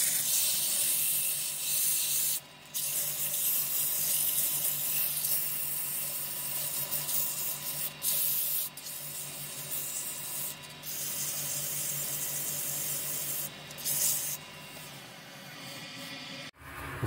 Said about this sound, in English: it's very important to do that, because that will definitely show up when you start spraying it